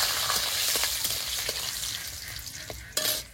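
Chopped garlic, along with dried chilli and nigella seeds, sizzles loudly in hot oil in a wok as shrimp are cooked. The frying hiss is close and continuous, broken by a few stirring scrapes, with no talk.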